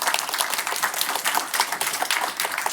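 Audience applause at a live podcast recording at a financial regulator's event, brisk clapping from a modest crowd with individual claps audible in a steady rhythm, close and alone without speech.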